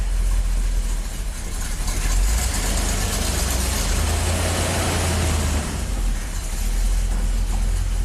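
A classic Corvette engine rumbles low and steady as the car pulls away, a deep continuous drone with slight swells and no talking.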